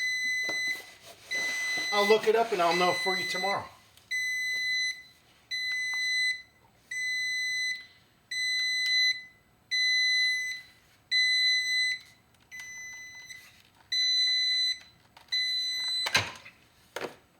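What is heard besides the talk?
alarm beeping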